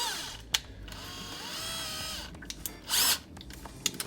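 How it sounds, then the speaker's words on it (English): A small power drill with a 1/16-inch bit whirs in short bursts while drilling a pilot hole, starting and stopping, with a brief higher-pitched spin near the end; close by, no talking. "Just putting the drill bit in."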